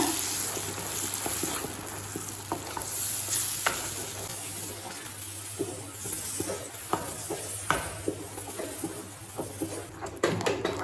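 Mashed banana for halwa is stirred in a hot pan, giving a loud, constant sizzle with repeated scraping strokes and light clinks of the spoon against the metal, with a burst of sharper scraping near the end.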